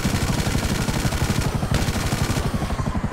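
Rapid automatic gunfire in Grand Theft Auto V, dense and continuous bursts of shots with a brief lull midway, loud and close, with no talking.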